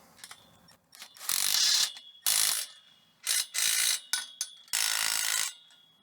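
Fittings being tightened down on a greenhouse or high tunnel frame, a series of loud, close ratcheting bursts of varying length separated by short pauses, with no voices.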